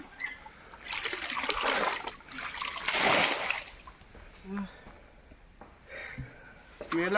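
Water splashing and sloshing as people bail it out by hand to catch fish in a Konkan village, bursts of splatter with trickling between, voices faintly mixed in.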